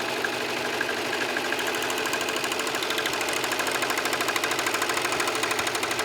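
A serger sewing machine runs a rolled-hem test stitch, giving a fast, even mechanical chatter with a steady rhythmic pulse that carries on for several seconds, close and alone.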